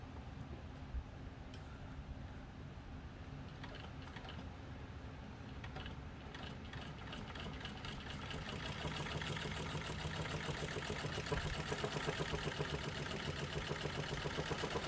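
A Singer 15 sewing machine stitches through leather with a soft mechanical hum. It builds into a rapid, even ticking rhythm as it speeds up in the second half. The sound is fairly faint and close, and no one speaks.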